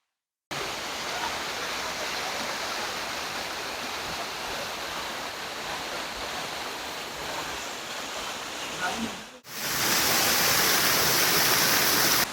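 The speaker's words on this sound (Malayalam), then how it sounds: "ഞങ്ങൾ മൂന്നുപേരും കൂടെ ഇതേ ഇവിടെ മറ്റൊരു വെള്ളച്ചാട്ടം കാണാൻ വേണ്ടി വന്നിരിക്കുകയാണ്" A waterfall and stream on a hillside farm high in the hills of Moolamattom pour out a steady, dense rushing roar. It cuts out briefly near the end, then returns brighter and louder.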